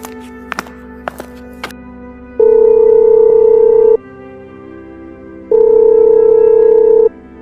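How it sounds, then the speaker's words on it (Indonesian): A few quick button beeps, then two long steady telephone dialing tones separated by a pause, clear and close. "Bentar ya, saya telepon dia dulu."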